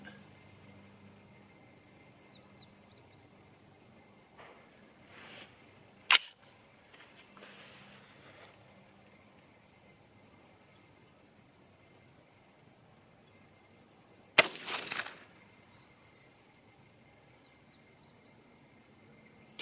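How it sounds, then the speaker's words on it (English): A 6.5 Grendel rifle fires a single 95 grain Hornady VMAX round, heard as a sharp, fairly distant crack with a brief trailing echo over steady cricket chirping; a fainter click comes a few seconds earlier. "This is a 95 grain Hornady VMAX. I'm going to shoot at the big target on the right, just 1 shot."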